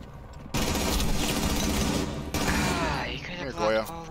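Rapid automatic gunfire in the video game Rainbow Six Siege, loud sustained bursts that break briefly and resume, with a voice talking over the shots near the end.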